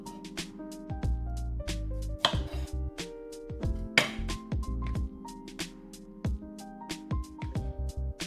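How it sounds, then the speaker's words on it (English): A knife trims okra stems on a cutting board, giving close, sharp taps in an uneven rhythm with a few light clinks, and no talk. "Trim the stems of the okra."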